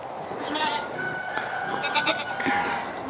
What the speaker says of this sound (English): Oh, the sheep. Going to check them out.